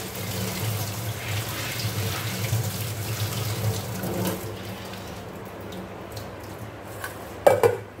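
Tap water runs steadily into a sink as soaked, strained food is rinsed. The flow dies away about halfway, then a couple of short clatters sound near the end.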